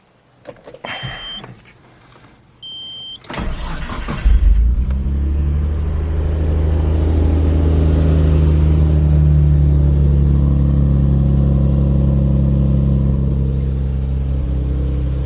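Clicks and an electronic chime, then a JDM car engine cranks and catches, settling into a loud, steady idle rumble.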